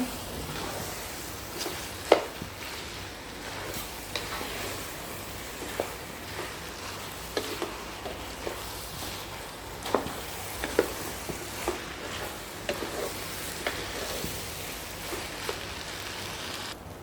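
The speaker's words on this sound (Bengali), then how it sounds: "চালটা আর ডালটা আমি খুব ভালো করে ভেজে নিচ্ছি মশলার সাথে, সব কিছুর সাথে" Rice and lentils fry in oil with spices for chicken khichuri, a soft steady sizzle dotted with sporadic pops and light stirring knocks.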